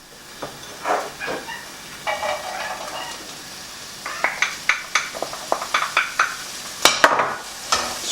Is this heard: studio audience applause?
no